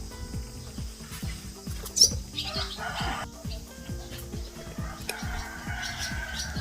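Swallow chicks beg with rapid, repeated high chirps while a parent swallow brings food to feed them, a busy, close chatter of small calls over a steady low ticking background.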